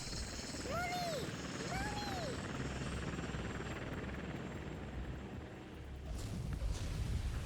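A helicopter in the video game Bayonetta drones steadily with a rotor hum, joined by swooping whine effects early on, fairly faint and continuous throughout.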